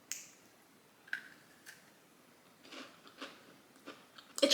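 Crunchy chocolate chip cookie being bitten and chewed up close, several sharp crunches spaced out over a quiet background, with a louder crackle at the end.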